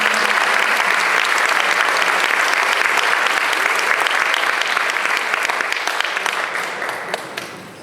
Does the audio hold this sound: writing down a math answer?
no